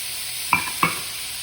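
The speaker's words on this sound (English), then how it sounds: "When we have the meat browning for everywhere, we add onions, we add leeks, we add the celery," Pork loin browns in a frying pan with onions, leeks and celery, a steady bright sizzle under two quick scraping stirs close by.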